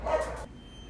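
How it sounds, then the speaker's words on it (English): A dog gives a single loud, close bark that cuts off abruptly, leaving a quiet room. "I'm sorry about that interruption and the loud dog bark noise."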